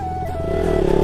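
An off-road motorcycle engine revs close by with a rising, buzzing tone that grows louder over about a second, with no talking.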